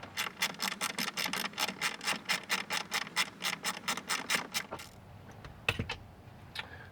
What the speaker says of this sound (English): We removed that last T20 Torx screw.